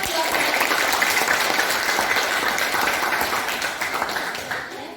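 Sustained applause from a classroom of students, a dense clatter of many hands clapping close and loud, holding steady for several seconds before easing slightly toward the end.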